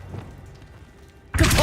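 In Hogwarts Legacy, the Revelio spell goes off as a sudden bright, loud magical burst near the end, after a stretch of quiet low game ambience.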